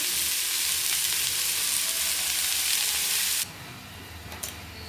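Potatoes fry in hot refined oil with turmeric and salt, a loud steady sizzle and hiss that abruptly drops to a quieter crackle partway through, with faint stirring.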